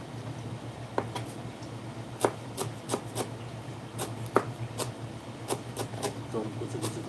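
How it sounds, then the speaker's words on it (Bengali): A knife finely chops fresh coriander leaves on a board in a home kitchen, making soft, irregular taps against a steady background hum. "পুরো ধনিয়া পাতা কুচি কুচি করে কাটতেছি।"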